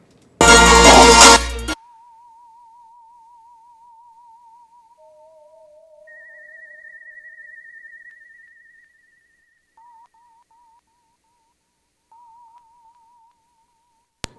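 A whistle goes through an Echoplex delay in a hip hop mix: a short loud burst opens, then thin wavering whistle tones repeat and trail off as faint echoes, sparse against silence.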